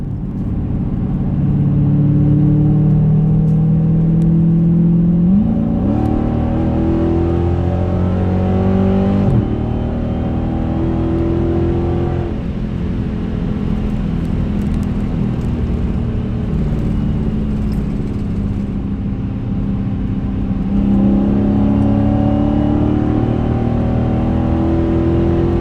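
A Dodge Challenger Scat Pack V8 pulls hard through its 8-speed automatic, the loud, close engine note climbing in pitch, dropping sharply at each upshift, then rising again in sustained full-throttle acceleration.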